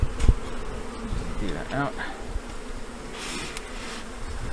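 Honeybees from a swarm buzzing around a hive during transfer to a new home, a steady close drone with individual bees whining past, and a person speaking briefly.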